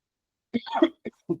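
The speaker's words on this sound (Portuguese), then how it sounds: "só porque eu tossi" A single short cough, a rough burst followed by two small catches of breath, close and alone.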